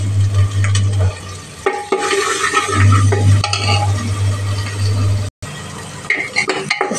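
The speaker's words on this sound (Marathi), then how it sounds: "सर्व मसाला चांगला तळला आहे आपला, चांगला फ्राय झालेला आहे." Pav bhaji spices sizzle in a pan while a spoon stirs and scrapes against the metal with clinks and knocks, over a steady low hum; no one speaks.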